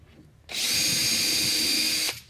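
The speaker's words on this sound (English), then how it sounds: "let's get this on high speed drill mode" A power drill on high speed bores holes in a panel, sounding as a single steady high-pitched whine of about one and a half seconds that starts and stops abruptly, close and loud, with no talking.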